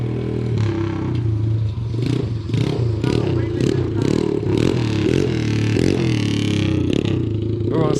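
A Chinese pit bike on a test ride gives off a buzzing engine note that rises and falls with repeated throttle blips, with clattering, close, loud and steady.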